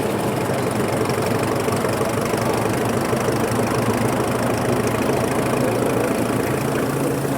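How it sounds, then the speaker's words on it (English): A vintage threshing machine, belt-driven at a hay and harvest show, is brought up to speed with a loud, steady mechanical drone and rapid, even knocking rhythm. "just to start driving the thrashing machine"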